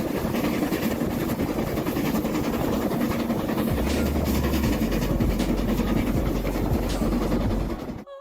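A train rumbles steadily past at close range, wheels rattling on the track with a low droning engine, before the sound cuts off abruptly.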